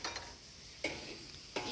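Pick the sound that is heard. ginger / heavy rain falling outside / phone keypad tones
ginger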